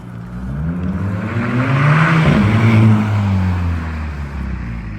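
A VW Golf Mk5 fitted with a sport air filter revs hard, its engine note rising and falling in a loud, close, sustained roar with no talk over it.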